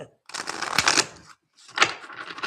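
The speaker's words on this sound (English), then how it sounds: "I'm going to shuffle the cards." A deck of tarot cards is shuffled close up: two quick papery riffling bursts separated by a brief pause.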